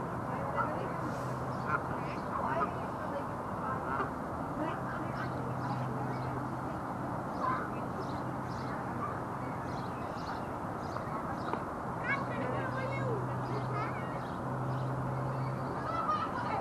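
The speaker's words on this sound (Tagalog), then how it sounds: "Natuwa ata si Pato tsaka si Patay." Ducks quack at a pond in High Park, Toronto, in summer, scattered calls over a busy outdoor background with people talking nearby.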